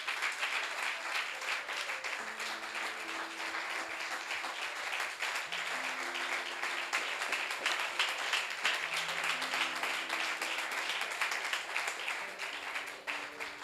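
A church congregation claps steadily together to praise the Lord during a French-language service. The dense, continuous applause lasts throughout, with faint sustained musical tones underneath.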